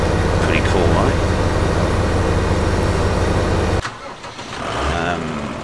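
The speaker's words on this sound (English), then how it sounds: "This is another tractor that I got with the map." Tractor engine in Farming Simulator 15, a steady loud drone rumbling continuously for nearly four seconds, then cutting abruptly to a quieter, fluctuating engine hum with a person talking over it.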